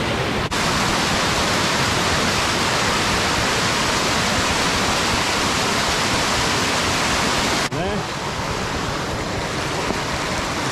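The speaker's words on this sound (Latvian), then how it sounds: "paskat, kāda straume gāžās lejā ar ūdeni" Water from a stream rushes down a ravine in a loud, unbroken roar, close and steady throughout, with no voices.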